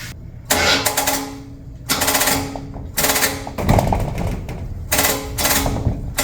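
A 1971 SS El Camino engine cranking over without catching, in repeated loud bursts of starter grinding separated by short pauses, close by.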